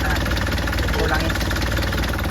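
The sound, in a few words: Isuzu 4HL1 diesel engine idling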